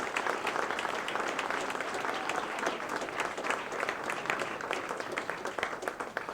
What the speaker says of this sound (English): Let's give all four of those people a very good round of applause.